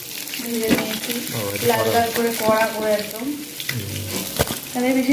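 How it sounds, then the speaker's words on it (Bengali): Katla fish head frying in spattering oil, a steady sizzle with sharp pops, while a person talks over it. "একটু তেল চিটকাচ্ছে মাছ পুরো ভাজা রেডি"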